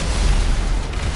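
Explosion in the video game GTA 5, a loud continuous roaring blast with heavy low rumble filling the whole moment, no talking over it.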